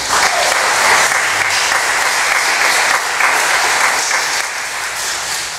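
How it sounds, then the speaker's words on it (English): An audience applauding inside St. Joseph church, with loud, sustained clapping from many hands that continues steadily throughout and tapers slightly toward the end. "is the first time anybody clapped"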